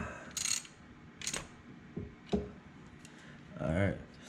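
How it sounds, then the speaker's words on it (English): Tool work on a 2000 Toyota Echo's ignition coil while a 10mm bolt is screwed down, a few short metallic clicks and ratcheting taps spaced apart, with a brief voice sound near the end. "Rescrew the ignition coil down. This is just a 10mm screw or bolt"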